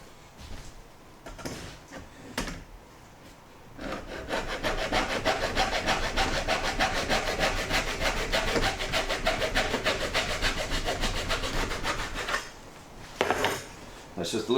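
A hand saw cuts through wood to trim a spike in a steady, loud back-and-forth rhythm of strokes for roughly eight seconds, with quieter handling knocks before and after.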